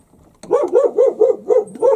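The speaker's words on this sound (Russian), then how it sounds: "Ну, собачка, собачка. Вот он какой умница." A small dog barks about six times in a steady, rhythmic series, loud and close at a country house with a veranda, with no talking over the barks.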